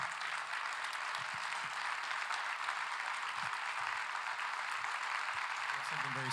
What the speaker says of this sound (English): You can stand and clap.